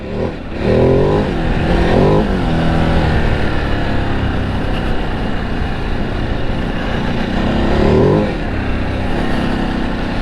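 Ducati Desert X motorcycle engine running loud and close on a test ride, a steady powerful drone with revs swelling near the start and again toward the end, no talking.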